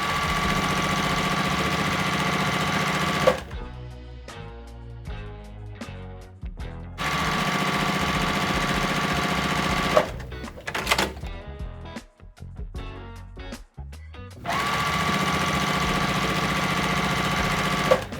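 A sewing machine stitches quilt blocks together in steady, rapid mechanical bursts that run loud and continuous, stop for a few seconds of softer handling clicks, then start again, close and dominating.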